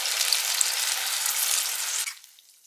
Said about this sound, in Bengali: সবজি ফ্রাই করা হয়ে গেছে, এবার চিকেন আর ডিমটাও আমি অ্যাড করে দিলাম